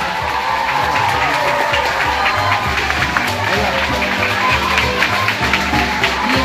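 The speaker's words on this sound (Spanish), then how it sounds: "Un fuerte aplauso." A school crowd greeting a visitor in Cartago fills the space with loud, continuous clapping, cheering and whooping, mixed with crowd chatter throughout.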